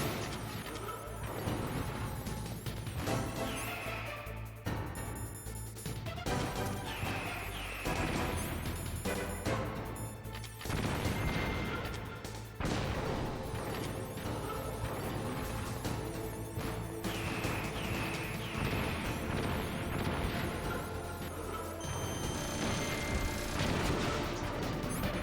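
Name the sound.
missile explosions in the video game Metal Gear Solid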